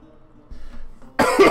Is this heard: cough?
yes